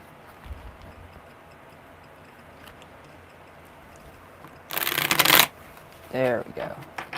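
A quick riffle shuffle of tarot cards rattles for about a second, then a short voice follows; quiet room tone otherwise.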